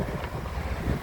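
Strong wind roars and buffets the microphone in a continuous low rumble, with no voices.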